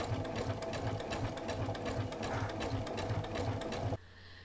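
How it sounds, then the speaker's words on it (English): A sewing machine runs a zigzag stitch, 3.5 mm wide and 1.5 mm long, through fabric circles for bowls, giving a fast, even mechanical chatter close by that stops abruptly near the end. "Use a zigzag stitch."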